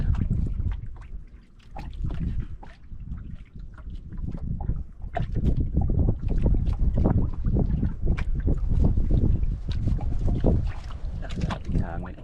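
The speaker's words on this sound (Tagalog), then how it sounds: "Grabe hangin." Strong gusts of wind batter the microphone in bursts, rising and falling, with people talking faintly underneath.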